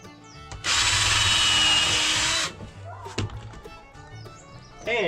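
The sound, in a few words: power drill drilling pallet holes in boards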